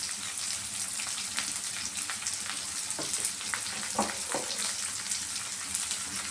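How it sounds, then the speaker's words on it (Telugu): Onions and curry leaves sizzle steadily in a nonstick pan, a dense continuous frying hiss with a few sharper crackles and pops partway through, close and without talk. "ఇప్పుడైతే కొంచెం ఆనియన్స్ వేస్తాం. కొంచెం కరివేపాకు,"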